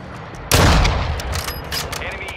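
Gunfire in Call of Duty: Modern Warfare II breaks out suddenly as a loud, dense burst of rapid shots and booms, then continues as scattered, slightly lighter firing, close and dominant.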